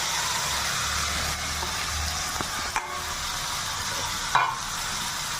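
Chopped bottle gourd being sautéed with spices in hot oil for a vegetarian lau ghonto, producing a steady close sizzle with occasional stirring scrapes and a sharp clink near the end.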